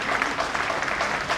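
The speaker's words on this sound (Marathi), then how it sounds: "त्यासाठी या मंडळासाठी एकदा जोरदार टाळ्या झाल्या पाहिजे." At a Ganesh festival mandal event, an audience claps in a steady, dense round of applause that carries evenly through the short moment.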